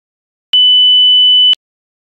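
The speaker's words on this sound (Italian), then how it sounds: "si è sentito un beep" A single clean electronic beep from a Windows 11 earbud microphone diagnostic test holds one steady pitch for about a second, loud and isolated in silence.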